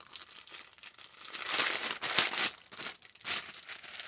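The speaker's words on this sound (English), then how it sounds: "I know, more rustling." Plastic packaging from a Temu order crinkles and rustles up close, a continuous crackly scrunching that swells and fades in uneven waves for several seconds.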